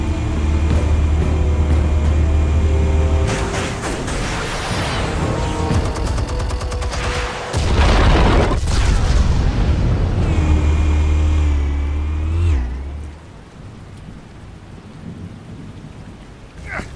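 Explosives go off in Batman: The Telltale Series, a heavy rumbling blast with crackling debris and a deep booming roll that swells, dips, then surges again before fading into a low settling tail.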